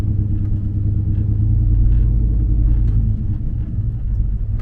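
A Chevrolet Silverado truck driving, giving a steady low engine rumble and road drone heard from inside the cab, loud and continuous with no talking.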